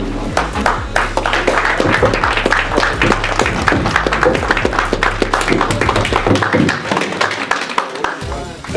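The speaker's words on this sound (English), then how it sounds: "Let's give yourselves a round of applause, by the way, for being here tonight." An audience at a veterans event claps in a dense, close round of applause that holds steady and starts to thin toward the end, with talk mixed in.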